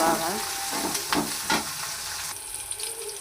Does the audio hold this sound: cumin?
yes